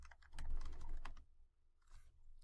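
Typing on a computer keyboard, a quick close cluster of light clicking keystrokes, then a pause and a few softer taps.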